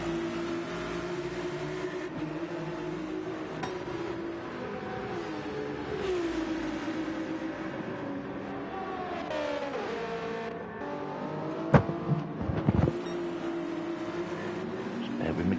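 GT3 race cars, including Ferraris, pass in a racing video game at Interlagos, their engines droning and whining with rising and falling pitch over a steady background, with a sharp burst of louder engine noise near the end.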